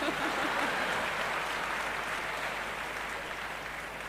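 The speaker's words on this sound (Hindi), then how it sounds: "मुझे पता था आप बिना बताए तालियां बजाएंगे," An audience claps at a celebration event, a dense wash of applause that holds steady and then slowly tapers off, with no voices on top.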